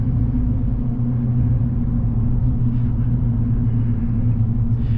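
Fitted with an S&B cold air intake, a 2021 Chevrolet Silverado truck engine holds a constant, heavy low-pitched drone at close range for about five seconds, without talk or revving.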